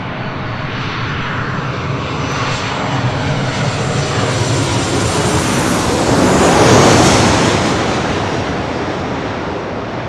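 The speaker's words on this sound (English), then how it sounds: "This is Southwest Airlines 360 coming in from Reno on a 737-800." A Southwest Airlines Boeing 737-800 arriving from Reno lands at LAX, its jet engines roaring loud and steady throughout, swelling to a peak near the end as it passes close, then easing slightly.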